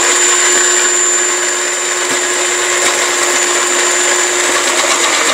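Electric food processor chopping onions, a steady loud whirring motor drone with a constant high whine, running continuously with no pauses.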